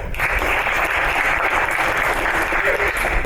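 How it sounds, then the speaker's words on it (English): Dense, steady applause from an audience at a cooperative's annual meeting fills the space, many hands clapping together at constant loudness for a few seconds with no break. "clap your hands for me if you've been on a telephone town hall today?"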